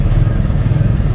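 A Royal Enfield Classic 350 motorcycle engine runs close and loud, a steady, deep thumping rumble with an even pulse and no pauses.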